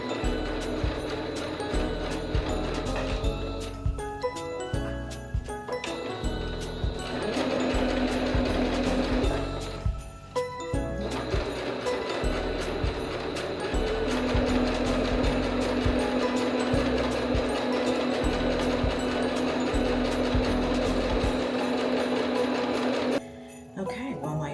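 Sewing machine in good working shape running while cloth napkins are sewn, a loud close mechanical whirring and rattling with several short pauses and restarts over a long stretch.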